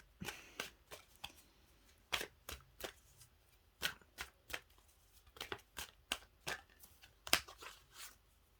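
Cards are shuffled close by in a series of quick, crisp riffles and taps, irregularly spaced with short pauses between bursts.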